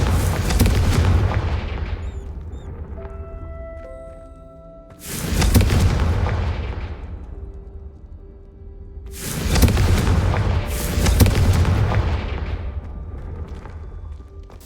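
In the Hogwarts Legacy video game, Confringo spell blasts go off as three or four loud booming explosions, each with a sharp onset and a long rumbling decay. Quieter ambient game sound fills the gaps between them.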